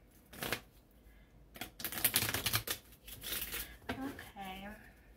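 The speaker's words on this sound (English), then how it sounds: "Shuffle it a little bit more." Playing cards being shuffled by hand in several quick riffling bursts, with faint speech between and after them.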